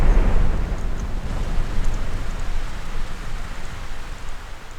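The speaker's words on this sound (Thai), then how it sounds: "ฝนตก" Steady rain pours in GTA San Andreas running with an ENB graphics mod, a dense continuous hiss of falling water at a constant level with no voices over it.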